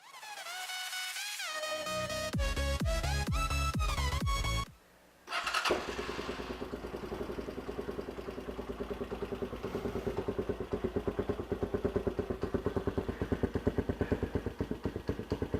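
A Haosen Hawk 250 motorcycle with a Sheng Wey PZ30 carburetor cranks on the starter, cuts briefly, then catches and idles in a fast, even, close-up putter that grows more regular.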